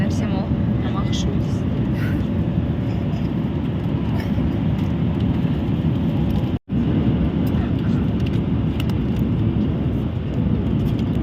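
Steady, loud roar of an airplane cabin heard from a seat over the wing, a dense unbroken engine and air rush that drops out for a split second.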